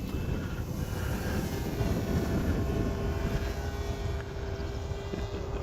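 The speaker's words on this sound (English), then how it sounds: "You can see it's rolling through the grass just fine." An H-King Wargo Signature Edge 540T RC model airplane taxis on grass, its electric motor giving a steady, close, droning whine with a constant tone and no talking.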